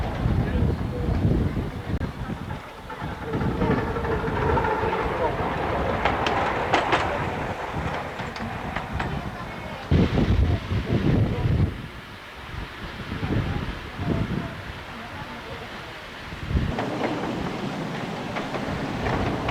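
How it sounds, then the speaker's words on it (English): Home-built Romulus type model steam locomotive running round a track, a rumbling, clattering rail sound with gusts of wind noise and uneven surges, nearby and fairly loud throughout. "Here I am with my Romulus type engine, getting ready for a trial run round the track"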